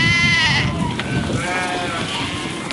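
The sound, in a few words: people imitating sheep bleating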